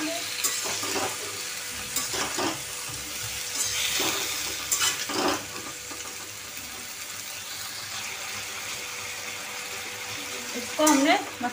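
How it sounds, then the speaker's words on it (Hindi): Semal (silk-cotton) pods and potatoes sizzle and fry with spices in a kadai, a steady broadband hiss broken by several louder scraping stirs and clinks of the spoon against the pan. "ये देखिए सेम्बर और आलू को भी कढ़ाई में डाल देते हैं, मसालों के साथ हम इनको अच्छे से मिला लेंगे।"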